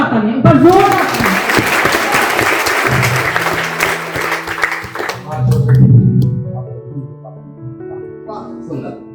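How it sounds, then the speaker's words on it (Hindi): An audience at a Republic Day kavi sammelan applauds a poet with a loud burst of clapping that lasts about five seconds, then gives way to someone speaking and musical tones. "पर जोरदार तालियां"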